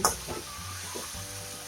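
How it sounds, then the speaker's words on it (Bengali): A gentle, fairly quiet sizzle of ginger, ground coriander and cumin masala sautéing in a pan with a splash of water, with a few soft stirring scrapes near the start and midway. "দিয়ে আরো 1 মিনিট মতো আমি এটাকে ভালো করে কষিয়ে নেব।"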